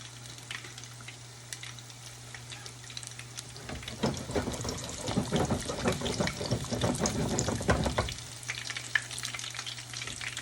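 Corn fritters fry in hot grease with a steady, close sizzle that swells into a louder, busier crackle for a few seconds in the middle, then eases back to a gentle hiss.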